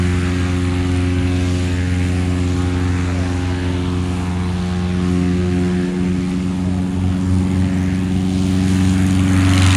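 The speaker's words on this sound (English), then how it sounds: "He probably just did that to show off his reverse pitching propeller" A STOL airplane with a reverse-pitch propeller roars close by during a short-takeoff-and-landing demonstration at Sun 'n Fun, a loud, sustained droning hum of the propeller and engine that holds steady and swells slightly toward the end.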